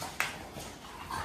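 Somewhere off at a distance, a dog gives a single quick yelp. The faint, brief canine sound is followed by low ambient noise.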